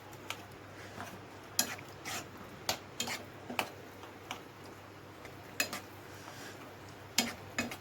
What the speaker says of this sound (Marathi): आता ते त्याच्यामध्ये टाकून आपल्याला व्यवस्थित मिक्स करून घ्यायचं आहे.